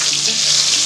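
A turmeric and salt mixture sizzles loudly in a cooking pan while being stirred, a close, dense, steady frying hiss lasting under a second.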